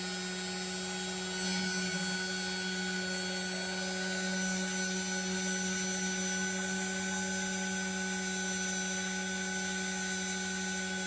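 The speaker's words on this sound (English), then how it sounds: "I like to turn the crystal over and start drilling from the other side" A small drill bores through a crystal bead for a necklace, giving a steady, even whirring hum with a thin high whine that runs unbroken and close for the whole stretch, with no talking.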